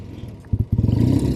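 Classic Triumph TR6R 650 motorcycle on a test ride, its engine rumbling low and steady, swelling louder partway through into a throbbing pulse, close by and with no talking.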